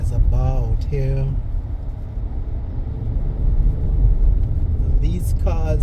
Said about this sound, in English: These cars coming towards us are coming through the main entrance.